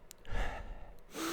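A voice imitates heavy, labored breathing with a short, sharp gasping inhale and breathy exhales, close and fairly quiet.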